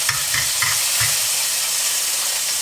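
Fresh garlic sizzling and frying steadily in a pan, a continuous close hiss with a few soft stirring knocks near the start and no talking.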